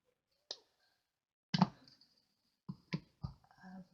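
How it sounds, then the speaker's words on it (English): Scissors snip through gingham ribbon in a quiet room, a few separate sharp cuts and clicks with silence between them, close and fairly faint. "I'm just going to cut myself"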